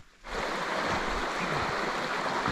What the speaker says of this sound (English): Down to the creek we go.